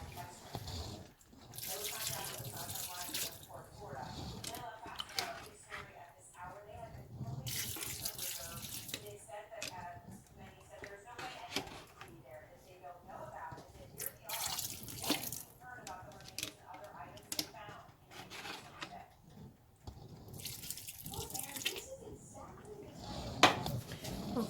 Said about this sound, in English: so I'm gonna add my broth. into my stew.